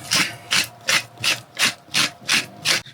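A pepper mill grinding pepper aboard a narrowboat kitchen, eight close, even rasping twists in a steady rhythm, each a short crunchy burst with brief gaps between.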